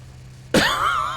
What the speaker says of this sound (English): Gosh, this stupid cough.